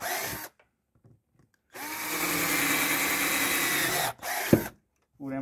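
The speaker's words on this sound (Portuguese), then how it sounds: "Furamos o lugar da cordinha." A power drill bores holes through PVC pipe for a planter, one steady whining burst of about two and a half seconds and a shorter one after, close and loud, with brief handling noises between.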